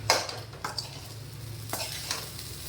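A spoon scrapes and stirs through food in a pan, working in salt, with a few distinct strokes over a soft background sizzle.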